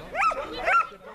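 Dogs let out two quick, close barks in a row, each with a rising and falling yelping tone.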